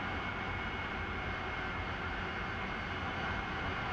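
AV-8B Harrier jet in the DCS flight simulator with its engine throttled back, a steady broadband roar and rumble holding constant and fairly loud throughout, with no voices.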